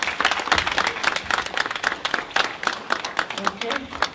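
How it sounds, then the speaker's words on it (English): A crowd applauds at a ribbon-cutting unveiling, brisk clapping from many people nearby, with chatter and voices mixed in underneath throughout. "A hand of applause, please."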